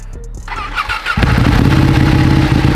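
A warm Ducati 1299 motorcycle engine starts up: a brief starter whir, then the engine catches and settles into a loud, close, lumpy idle.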